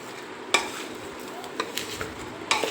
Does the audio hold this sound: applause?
no